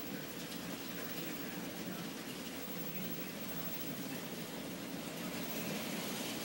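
Heavy wind-driven rain during a severe, fast-moving storm in Indianola, Iowa, a steady dense hiss of downpour and gusts, unbroken and fairly loud, with no one talking.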